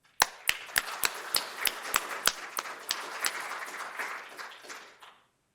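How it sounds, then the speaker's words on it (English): An audience claps for a speaker at an IEEE talk, starting with a dozen or so sharp, separate claps that blur into a steady ripple of applause, then stopping abruptly. "So with a round of applause, Igor Ovsosky."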